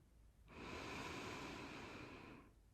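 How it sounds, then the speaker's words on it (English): A single deep breath drawn in through the nose for about two seconds, steady and airy, alone in a quiet room during a guided calming exercise. "Take a deep inhale"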